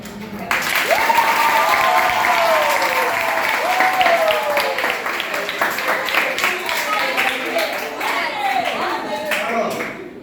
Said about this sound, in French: Alors, beaucoup applaudissent